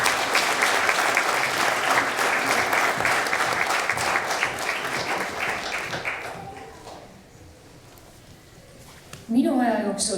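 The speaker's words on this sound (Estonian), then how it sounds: "Aplaus Kristale, kohe räägin miks." Applause from a school arts concert audience rings out steadily for about six seconds, then fades into a quieter hall before a voice begins speaking near the end.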